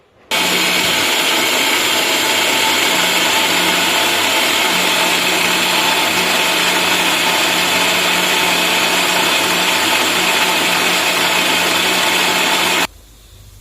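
A mixer grinder whirs loudly and steadily while grinding green gram into dosa batter, a continuous motor drone with a high whine that runs nearly the whole time, then cuts off abruptly near the end.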